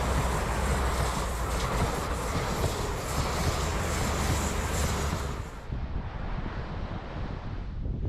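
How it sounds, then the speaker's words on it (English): A train rounding a very tight curve at Dawlish Warren, its wheel flanges squealing continuously over heavy rumbling and wind buffeting, loud and close, then suddenly dropping away near the end. "You can certainly hear the flanges squealing."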